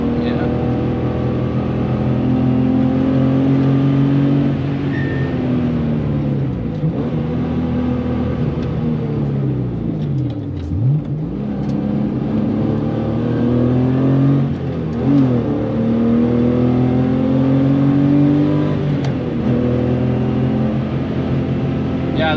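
A Porsche 993 CS engine drones and revs through gear changes on a lap, the pitch rising and dipping continuously, heard loud from inside the cabin with voices talking over it.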